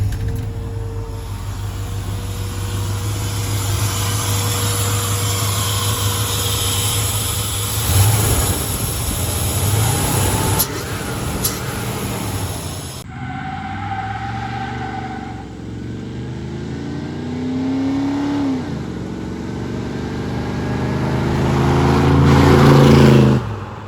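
A 1985 Chevy C10 Custom Deluxe two-wheel-drive pickup, newly converted to fuel injection and fitted with an LMR full bore exhaust, runs with a steady rumble that swells in several revs and grows louder toward the end, with no talking.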